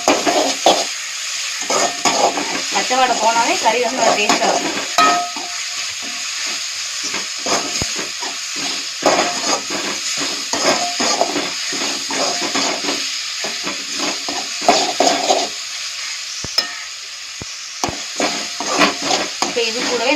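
Ginger garlic paste sizzles and hisses as it sautés in a pan for village-style chicken gravy, with steady frying broken by repeated scraping stir strokes while someone talks throughout.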